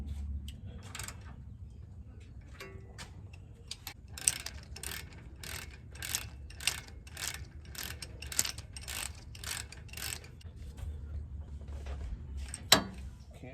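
Ratchet with an 8mm socket tightening brake bolts on a 2013 Ram 1500 during a rear brake pad job, giving a quick run of close, crisp clicks in even strokes with quiet gaps before and after.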